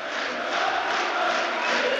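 A packed indoor hall during a football tournament roars with continuous crowd cheering and shouting, loud and dense throughout.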